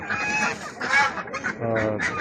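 Geese honk repeatedly in a loud, busy chorus, close by, with overlapping calls and some background commotion at the Sabunchu poultry market.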